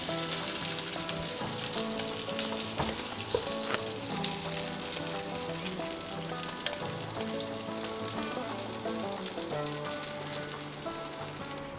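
Masala egg toast fries in a pan over low to medium flame, producing a dense, continuous crackling sizzle that stays loud and even throughout, with no voices.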